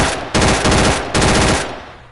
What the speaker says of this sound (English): I'm shooting Germans right now.